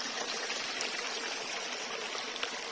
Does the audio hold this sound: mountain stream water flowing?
yes